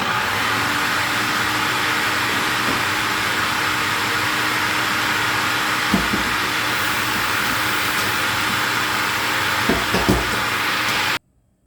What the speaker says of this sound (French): je pense qu'on va les mixer encore un peu